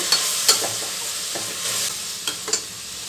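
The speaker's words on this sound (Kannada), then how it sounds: "ಧನಿಯಾ ಪುಡಿ ಗರಂ ಮಸಾಲ ಅರ್ಶಿನದ ಪುಡಿ ಎಣ್ಣೆಯಲ್ಲಿ ಒಂದು ಸ್ವಲ್ಪ ಫ್ರೈ ಮಾಡಬೇಕು" Coriander powder, garam masala and turmeric stirred and frying in hot oil for carrot pulao, a steady close sizzle broken by several sharp scraping stirs of the spoon in the pan.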